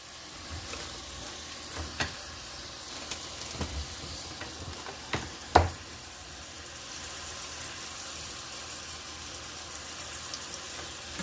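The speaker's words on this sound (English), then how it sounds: "We're going to go ahead and stir it up." Spaghetti sauce frying in a pan sizzles quietly and steadily, while a spoon stirs it with scattered knocks and one louder clank near the middle.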